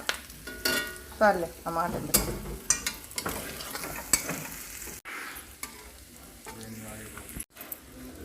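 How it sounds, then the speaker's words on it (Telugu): Chicken frying in a pan, crackling sizzle broken by repeated scraping and clinks of a spoon stirring, close and uneven, with someone speaking briefly over it. "ఇక మొత్తం అయితే ఇలా వేసేసుకొని ఫ్రై చేసుకుందాం."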